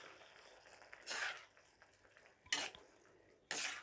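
Carrots and milk for gajar halwa are stirred in a pot, three distinct scraping clanks of a spoon against metal separated by quieter bubbling pauses, close and fairly soft.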